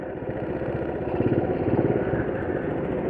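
A modified, lowered Honda C70 motorcycle rides in first gear, its small engine putting out a steady, close, rumbling putter with a slight rise in revs midway and no talking.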